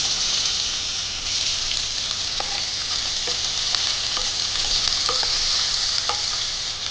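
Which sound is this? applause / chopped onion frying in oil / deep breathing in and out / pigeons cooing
chopped onion frying in oil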